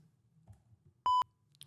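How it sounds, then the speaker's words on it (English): A single short electronic beep, a clean steady tone lasting about a fifth of a second, sounds clearly over a quiet low hum with faint soft noises around it. "Where's the beep?"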